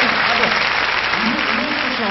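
A studio audience on a 1977 French television music show applauds steadily and densely, with the clapping filling the whole stretch at close range.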